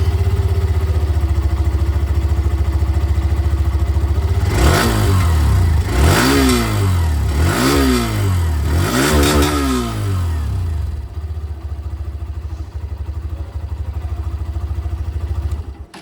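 A Hero Xtreme 125R dual-channel ABS motorcycle idles steadily, then its 125cc engine revs up four times in a regular rhythm before settling back to a smooth idle, loud and close.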